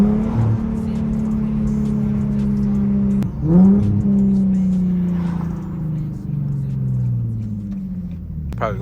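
Infiniti G37 with a flame tune and ISR single-exit exhaust, heard from inside while driving: a steady, loud engine drone with rising and falling revs and a sharp burst near the middle, with some talk.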